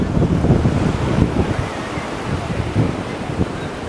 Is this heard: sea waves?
yes